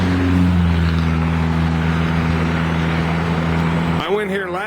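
Road traffic streams past near a wooded area, a steady engine rumble and tyre roar from passing cars that cuts off abruptly near the end, followed by a voice talking.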